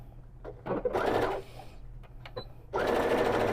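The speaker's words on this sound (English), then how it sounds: "I back stitch to start" A home sewing machine running a straight stitch in pink Gutermann thread on a one-piece, unlined tote bag, whirring in two close, loud bursts with a short back-stitch pause and light handling noise between them.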